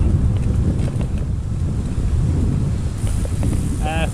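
Strong wind buffets the microphone of a cyclist riding a 200 km Audax near an estuary, a loud continuous rumble with a brief voice near the end.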